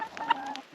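A chicken on a homestead gives a single short cluck, fairly close and moderately loud, with no talk over it.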